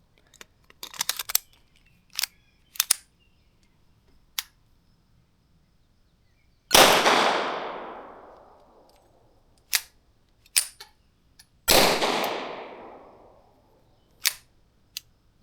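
A Ruger MKIV pistol fires .22 LR shot shells, two sharp reports with ringing decay about five seconds apart, amid scattered clicks and clacks of handling the gun.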